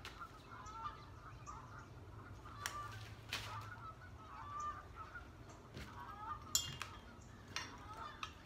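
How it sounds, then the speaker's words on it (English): Geese honking outside during an indoor resin painting session, scattered calls that are faint and distant over low room noise. "Can y'all hear those geese out there?"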